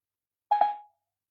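A short electronic two-note tone from a phone as a call to Mark is placed, clear and alone against silence, with a brief double onset fading within half a second.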